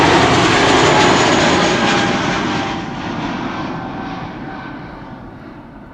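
Sky Express airliner departing Amsterdam Schiphol, a loud jet roar close by at first that steadily fades as the plane climbs away, with the high hiss thinning out toward the end.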